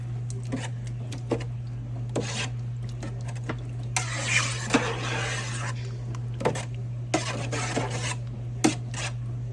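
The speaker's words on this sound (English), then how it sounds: "Give that a little stir." A spoon stirs homemade spaghetti sauce in a pot, scraping and clinking against the metal in short, quiet bursts over a low steady hum.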